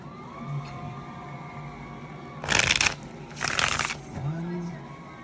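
Tarot cards being shuffled, two short riffling bursts close by, with a voice speaking softly before and after them.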